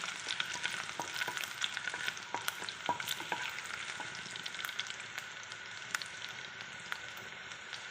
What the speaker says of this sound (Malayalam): ഇഞ്ചി വെളുത്തുള്ളി ചതച്ചത് ഇട്ട് കൊടുക്കാം. ഇളക്കി കൊടുക്കാം.